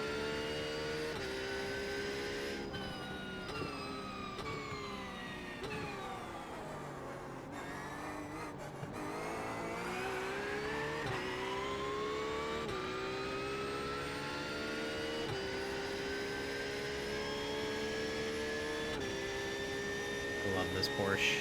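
A Porsche race car in iRacing lapping Suzuka, its engine droning steadily and loud with rising and falling revs through gear changes and corners, a continuous whine carried for the whole stretch.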